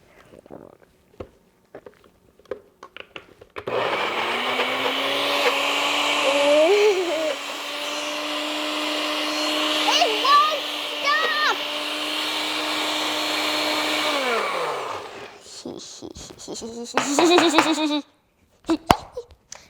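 A blender purees a Thanksgiving meal: a loud, steady whirring motor runs for about ten seconds, its pitch wavering as food churns, with brief voices and clatter before and after.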